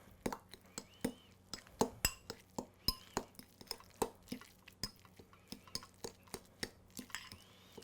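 A spoon clinks against a bowl while deviled egg filling is mixed, a steady run of sharp, close taps about three or four per second, alone with no talk.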